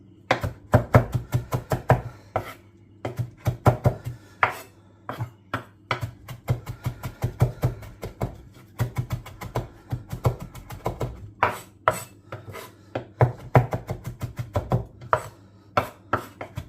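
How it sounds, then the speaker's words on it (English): A knife chops fresh parsley, stalks included, on a cutting board in fast, irregular bursts of crisp close taps that keep going throughout, with no talking. "I'll also add some chopped parsley to the Parmesan side."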